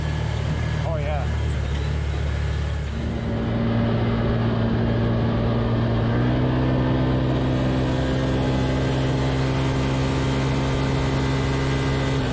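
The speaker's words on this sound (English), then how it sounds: "Every now and then you got to blow the carbon out of the engine, and this was a perfect trail for it." An ATV engine on a trail during a lakeside camping trip drones steadily at a fairly constant pitch and climbs slightly midway, close up, with faint voices partly over it.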